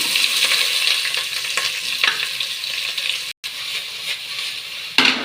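Sliced onions sizzle in hot oil in a pan for chicken biryani, with a steady crackling fry and scraping stirs, close and loud, broken by one short silent gap.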